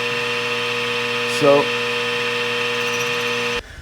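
A lathe threads the rim of a trumpet mouthpiece at slow speed, giving a steady tonal machine hum with a brief louder scrape partway through before it cuts off near the end.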